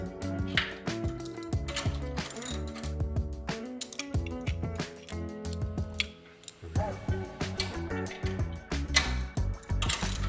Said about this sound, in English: Make sure that your ratchet wrench is set up right.